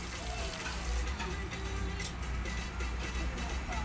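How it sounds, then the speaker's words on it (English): Onion sautéing in hot oil in a large pot gives a steady, moderate sizzle that holds evenly throughout with no voices over it. "In a large pot, we have some oil heat up and we add in some onion to saute."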